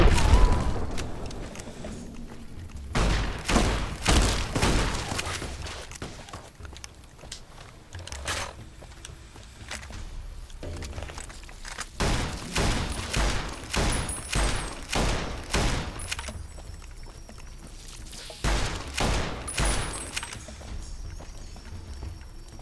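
Gunfire in the game Fallout: New Vegas comes in repeated bursts of rapid, punchy shots, clustered in rhythmic volleys with short pauses between them, loud and close.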